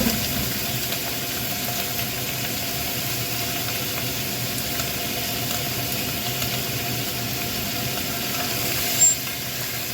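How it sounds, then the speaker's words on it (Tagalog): A kitchen exhaust fan runs as a steady, fairly faint broadband whoosh with a low hum beneath it, continuous and unchanging from start to finish, no talk. "Maingay yung exhaust fan."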